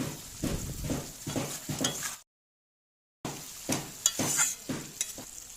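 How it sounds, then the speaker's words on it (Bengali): Bengali potol chingri curry gravy bubbling in a pan, a steady soft sizzle with repeated stirring scrapes, broken by a second of silence partway through. "দেখুন বন্ধুরা, ঝোলটা ফুটতে শুরু করেছে।"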